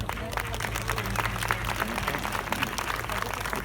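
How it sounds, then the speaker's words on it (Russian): A crowd at a regional awards ceremony applauds warmly, a continuous rush of many hands clapping at a moderate distance, with a faint murmur of voices in the hall. "Еще раз всем бурные аплодисменты."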